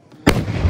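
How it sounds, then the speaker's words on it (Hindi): A firecracker goes off with a sudden sharp bang, set off to scare a man-eating animal, followed by a loud crackling rumble that stays close and continues to the end. "चलाओ और पटाखे चलाओ।"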